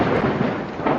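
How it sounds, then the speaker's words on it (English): A heavy, sustained rumble of thunder rolls loudly and continuously through a storm, dense and close, with rain mixed underneath. "Lightning."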